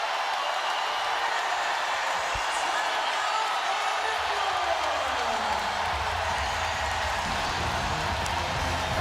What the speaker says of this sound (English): And this crowd's going to let her hear it.